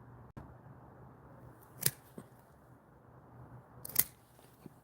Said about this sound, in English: So make a fresh cut at an angle.